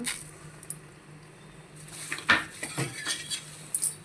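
Coriander seeds, cumin and lentils dry roasting in a pan, with soft rattling and scraping as a spoon stirs them, plus a few light clinks of metal against the pan, steady and close.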